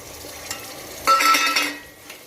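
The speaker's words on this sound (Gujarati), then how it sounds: "હવે આપણે એમાં વેજીટેબલ નાખી દઈશું ગાજર લીધા છે મેં નાખી દઈશ બટાકા નાખી દઈશું" Carrots and potatoes drop into a pan of spiced masala rice and get stirred, a spoon scraping against the metal with a brief surge of sizzling and clinks at mid-clip, fairly close and with no talking.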